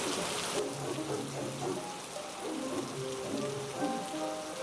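Steady rain patters on a surface, a dense, continuous hiss of drops with no voices, close and fairly loud throughout.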